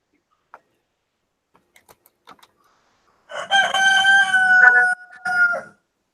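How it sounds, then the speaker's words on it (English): Rooster crowing once, a loud, close, drawn-out cock-a-doodle-doo in a quiet setting, preceded by a few faint clicks. "rooster is starting to wind down"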